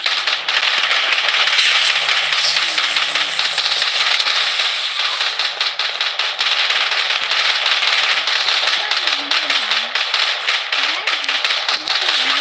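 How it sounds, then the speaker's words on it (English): Rapid gunfire crackles through a Blood Strike battle royale firefight, sharp bursts repeating over a dense, noisy game mix while a voice talks across much of it. "I'm under fire"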